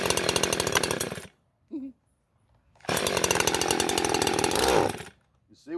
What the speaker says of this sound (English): start her up again and we'll see how she does